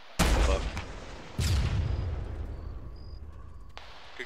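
Two heavy rocket blasts in Arma land about a second apart, each a loud broadband boom with a long rumbling tail fading under distant ambience.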